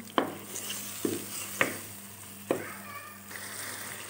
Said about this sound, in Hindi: अब टमाटरों को भी अच्छी तरह से भून लूँगी